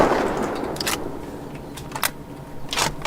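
Several sharp, spaced gunshots from a rapid-firing weapon in a video game, crackling over a dull background rumble.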